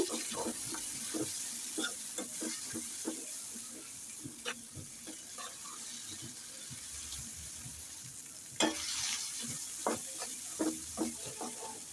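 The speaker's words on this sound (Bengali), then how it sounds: "মশলাটাকে নেড়ে ছেড়ে কিছুক্ষণ কষিয়ে নেব আমি" Spice paste of green chilli, garlic and ginger fries in a pan for a pangas fish and potato curry, stirred with steady sizzling and a run of short scraping strokes. Occasional louder clinks stand out, with no talking.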